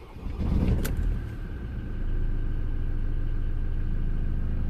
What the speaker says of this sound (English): Let's gonna start the engine again.